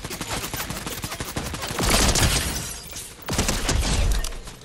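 A lock-on pistol fires nonstop in a video game, a loud, dense stream of rapid shots and cracking impacts filling the whole stretch with only brief dips in intensity.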